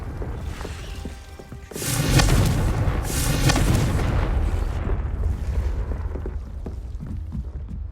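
A Confringo fire spell blast in Hogwarts Legacy erupts as a loud booming burst, followed by a second explosive boom and a rumbling tail that fades out.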